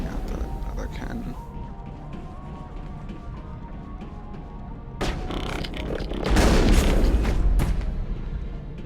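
Booming cannon fire in the sci-fi video game Mass Effect, one sharp blast followed by a bigger rumbling explosion after a quieter stretch, with someone speaking over the quieter part.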